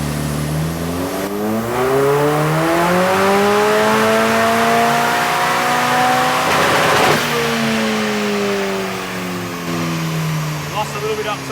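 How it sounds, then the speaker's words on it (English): A car engine runs at full throttle on a dynamometer, its loud revving tone climbing steadily through the rev range, then dropping off and settling back toward idle near the end. "Full throttle, go."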